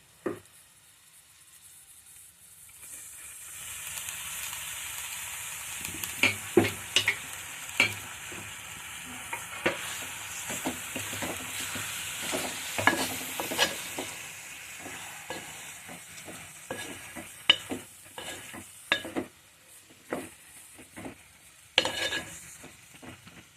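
Ridge gourd, onion and tomato pieces sizzle in a pan while a spoon stirs them, with steady frying hiss and repeated scraping clatters close by, getting busier after the first few seconds.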